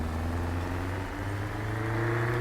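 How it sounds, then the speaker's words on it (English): A steady truck engine drones at a constant pitch in American Truck Simulator, a modded Detroit 8V92T, a continuous motor hum with a slight rise near the end and no talking. "You get kind of a different sound for the engine too"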